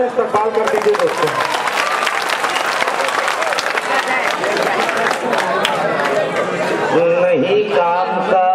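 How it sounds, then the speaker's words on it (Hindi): Loud, sustained audience applause and cheering at an All India Mushaira poetry gathering in Adawad, dense clapping filling the whole stretch with crowd chatter mixed in and a voice emerging near the end. "अगर सही कहा है तो जोरदार तालियों में इस्तकबाल कर दीजिए दोस्तों"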